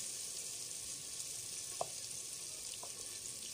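Chopped tomatoes sizzle steadily in a frying pan of chicken korma, making a soft continuous hiss with a couple of faint clinks from stirring.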